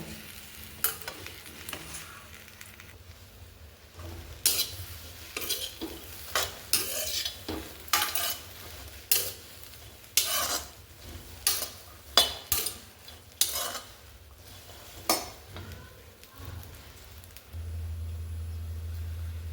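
Okra dry-fries in a pan, a low sizzle punctuated by repeated scraping stirs of a spoon against metal, coming in irregular bursts, close and fairly quiet, with no talking.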